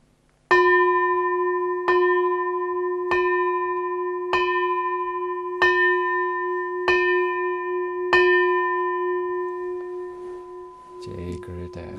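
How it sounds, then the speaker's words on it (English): A bell is struck seven times at a slow, even pace, each clear ringing tone sustaining and overlapping the next, followed by a burst of other sound at the end. "we ring the bell of invincibility."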